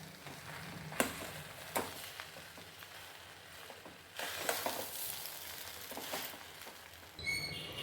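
Uggani, a puffed-rice breakfast dish, stirred and fried in a pan over low heat, giving a soft steady sizzle broken by occasional scraping strokes and a louder burst of stirring near the end.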